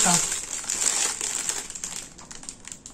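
Plastic packaging from a shopping haul being crinkled and torn open up close, a sharp rustle at the start settling into steady crackling that fades toward the end.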